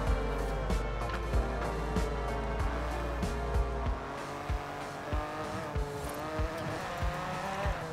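A Ford GT GTLM race car in Forza Horizon 5 drones loudly at high revs, engine note shifting through gears with rhythmic thumps and brief tire noise, steady and close throughout.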